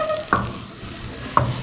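Flour mixture being stirred and fried in a pan for a chicken bread filling, two distinct spoon scrapes against the pan over a soft background sizzle, close and without talk.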